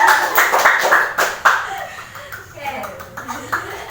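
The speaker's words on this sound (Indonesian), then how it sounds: "Tepuk tangan." A classroom of pupils in a Quran tajwid lesson claps hands in a quick burst of sharp claps that fades after a second or so, while a teacher keeps talking and a few chuckles mix in.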